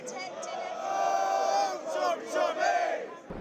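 A belligerent crowd of protesters near Downing Street in London shouts and chants in unison, loud rhythmic surging cries rising and falling over a few seconds.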